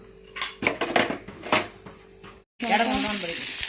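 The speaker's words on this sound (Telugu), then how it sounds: "కొంచెం ఆయిల్ పోసుకొని ఫ్రై చేసుకోవాలి" Oil frying in a pan, with clinking utensil taps and scrapes at first. After a short gap comes a dense, loud, continuous sizzle.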